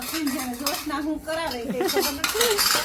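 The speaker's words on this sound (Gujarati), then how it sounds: "એ પેલા ભાઈ વાસણ સાફ કરવા બેસી ગયો" Dishes, pots and cutlery being washed at a family home, clinking and clattering under a man's continuous nearby speech.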